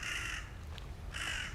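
Crows cawing on a hot Tokyo afternoon, two loud harsh caws separated by a short pause, with low traffic-like rumble underneath.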